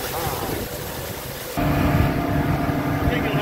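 A boat engine drones steadily during a ride out on the water, a low, constant rumble with wind noise that grows louder and fuller halfway through.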